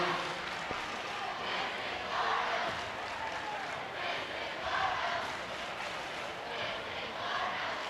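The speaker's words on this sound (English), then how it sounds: "The Newcastle student section cheering "This is our house."" The home student section at a high school boys basketball game chants in rhythmic waves that rise and fall, a broad crowd roar filling the gym from a distance with no clear single voices.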